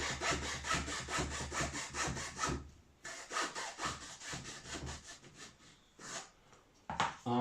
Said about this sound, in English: using the razor saw. Down to depth.